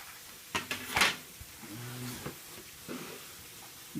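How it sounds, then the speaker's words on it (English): Plastic bottom access door of an HP EliteBook 840 laptop being released and pulled off: a few sharp clicks and snaps near the start, then quieter scraping and handling noises, close and without speech. "pull this little button this way, pull this door off"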